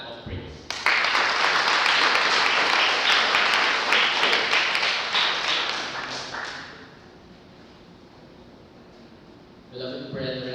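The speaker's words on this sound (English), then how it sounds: "as we honor the gift of God's presence with our loudest clap of praise" A church congregation at a worship service breaks into loud, dense clapping that swells and holds for several seconds, then fades away into quiet before a voice begins speaking.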